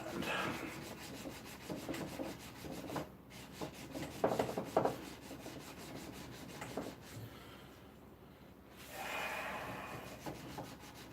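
Hand sanding by a blacksmith, steady rubbing strokes of abrasive on a workpiece, faint and close, in a continuous rhythmic scratching with a brief louder burst partway through and no talking.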